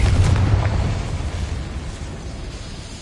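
A Confringo fire spell explodes in the video game Hogwarts Legacy, a loud booming blast with a deep low rumble up front that decays into a fading crackling tail over a few seconds.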